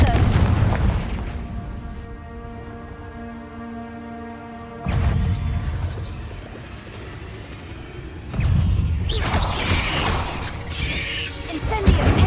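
Heavy booming blasts from the Confringo spell in Hogwarts Legacy erupt in a few bursts, with a low rumbling ringing tail between impacts and crackling debris, loud and close.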